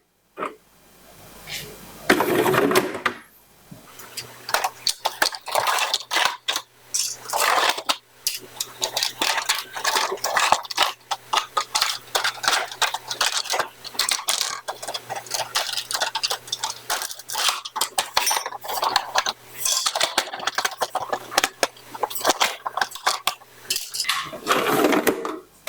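Spacers and nozzles taken off a Sharp Garuda seeder, a long run of close, irregular clicks, taps and rattles of small parts being handled, with a faint steady hum beneath.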